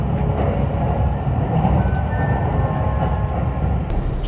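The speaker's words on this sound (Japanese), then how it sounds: "在来線特急らしい床下からのガタンゴトンという音がいいですね。" A limited express train on a conventional line in the Hokuriku region, heard from inside the carriage: a steady, loud rumble with clattering from beneath the floor runs unbroken throughout.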